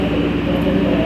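A commuter train stands at a station, its steady loud rumble and engine hum droning continuously at close range with no break.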